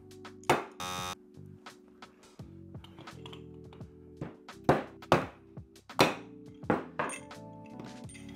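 A bearing is hammered out of a heated aluminum sailboat furler part with a series of sharp metallic knocks at an irregular pace, ringing briefly over a steady background hum.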